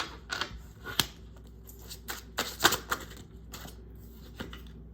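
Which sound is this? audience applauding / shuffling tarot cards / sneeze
shuffling tarot cards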